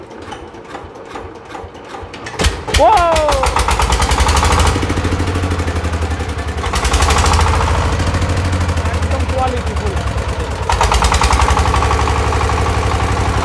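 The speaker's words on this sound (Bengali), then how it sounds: "হেভি সাউন্ড ইঞ্জিনের, ফ্রেশ একদম কোয়ালিটি সম্পূর্ণ সাউন্ড" A Saifing 20 horsepower diesel engine cranks at about 2.5 seconds, then runs steadily with a loud, heavy, rapid rhythmic chugging. The engine is close to the microphone, and people speak over it.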